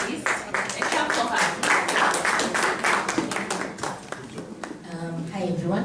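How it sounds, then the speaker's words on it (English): An audience at a gathering on fairer futures for Africa claps for a speaker, a sustained patter of many hands with voices and talk mixed in, someone speaking near the end. "And last but not least, a clap for"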